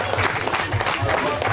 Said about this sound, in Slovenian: predlagam najprej seveda en velik aplavz